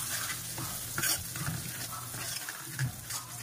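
Sugar mixture for homemade salad dressing sizzling in a pan while being stirred, with soft scraping strokes over a continuous frying hiss.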